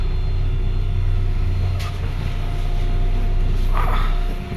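A train waits at a small halt station in the German countryside. A deep, steady rumble holds throughout, with a couple of brief squeals or hisses over it. The sound is loud and close, and no one speaks.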